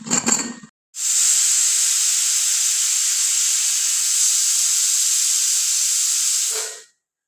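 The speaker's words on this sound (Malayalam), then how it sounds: "ഒരു 5-6 വിസിൽ കേട്ടതിന് ശേഷമാണ് ഞാൻ കുക്കർ ഓഫാക്കിയത്." A pressure cooker cooking beef lets out a loud, sustained steam whistle that hisses steadily for about six seconds before dying away, preceded by a short clatter.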